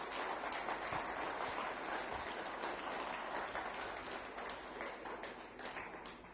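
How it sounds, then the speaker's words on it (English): Audience applause fills a conference hall at a high-level policy panel, dense steady clapping sustained throughout, with a slight fade toward the end. "Please give him a big round of applause."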